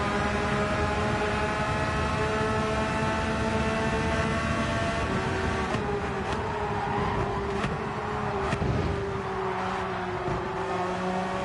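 Cars roar down a drag strip in Gran Turismo 7, a loud, steady engine drone with layered rising tones from several machines and a few sharp shifts near the end, with no voices.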